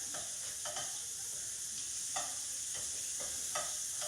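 Cajun shrimp sizzle steadily in a saute pan with a constant hiss, broken by a few scraping stirs and flips every second or so, heard close and fairly soft with no talking.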